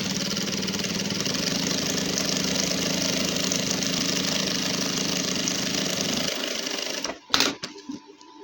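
Sewing machine running steadily at close range while the one-foot stitch is sewn along the collar band of a gents' suit, a continuous whirring drone that stops near the end, followed by a few clunks.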